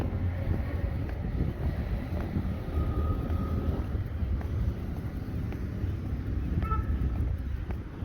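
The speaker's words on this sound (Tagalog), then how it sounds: "Ayan, malakas yung hangin." Steady low wind rumble buffets the microphone throughout, with a faint distant hum of traffic in the background.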